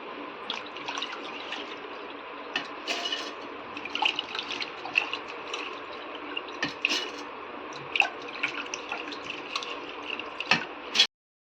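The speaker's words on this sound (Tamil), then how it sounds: "இப்போ எல்லாத்தையும் அரைச்சி எடுத்துக்கிடுவோம்" Soaked raw rice and sorghum are ground into batter for sweet paniyaram, a steady, dense whirring and sloshing that runs unbroken for about eleven seconds before stopping abruptly.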